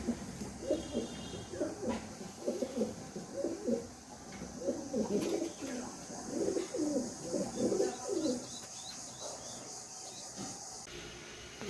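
Girbaz pigeons at a pigeon market coo in repeated soft throaty phrases over a steady background hum, with several bursts spread across the clip.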